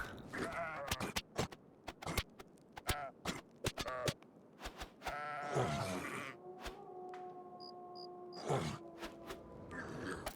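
Sheep in the video game Tibia, a herd bleating repeatedly in drawn-out, wavering calls mixed with sharp game clicks, fairly close and with no talking.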